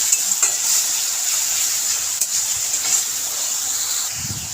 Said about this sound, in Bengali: এখন আমি এই টমেটোর মধ্যে দিয়ে দেবো লবণ পরিমাণ মতো, যেহেতু মাছে নুন হলুদ আছে তাই অল্প দেবো। দিয়ে একটু কষিয়ে নেব।